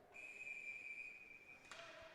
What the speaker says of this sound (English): now a whistle and a timeout called by Dexter